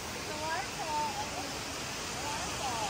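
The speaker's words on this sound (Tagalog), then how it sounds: "Rain vortex." An indoor waterfall, the Rain Vortex at Singapore's airport terminal, makes a steady, dense rushing roar throughout, with faint background voices and thin whistling tones drifting through the wash of falling water.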